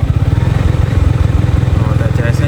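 Yamaha XMAX 2025 scooter engine revved a little from idle, a loud, close, steady pulsing engine throb throughout with no talk over it.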